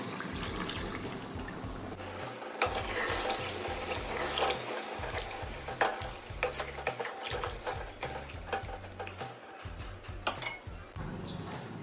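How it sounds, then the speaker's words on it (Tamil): Water is poured steadily into a pot of country chicken gravy, a continuous splashing, trickling stream heard close up with faint kitchen clatter. "இப்போது தண்ணியை சேர்த்துக்கிறேன்."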